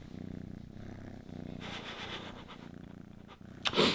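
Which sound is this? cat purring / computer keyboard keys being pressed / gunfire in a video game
cat purring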